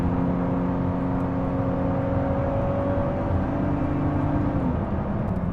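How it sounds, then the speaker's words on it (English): A car engine revs hard as its turbos kick in, producing a loud, steady, whirring drone with a rising tonal whine that holds throughout and eases slightly near the end. "You can hear the turbos just kick in too."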